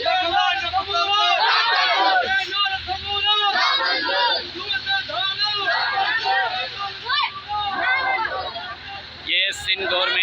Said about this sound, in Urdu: یہ دیکھ لیں یہ بچے اس وقت شدید نعرے بازی کر رہے ہیں۔